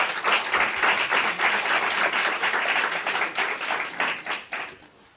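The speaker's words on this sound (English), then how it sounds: "let's give them another round of applause" A high school audience claps loudly and continuously for four graduates at a summer graduation ceremony. The dense, close applause holds strong for several seconds, then thins and tapers off at the end.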